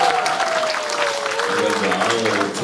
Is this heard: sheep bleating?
no